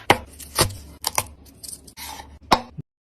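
An onion chopped with a knife, heard as a run of sharp, close strikes at an uneven pace, about eight in all, followed by silence.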